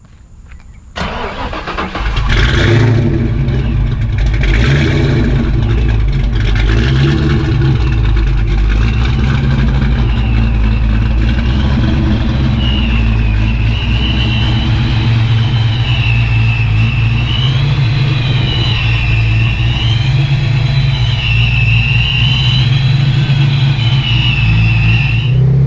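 A custom 1987 four-eye Foxbody Mustang starts up, then its engine runs loud and close for a steady stretch, the note swelling and wavering as it revs during a ride, with no talking.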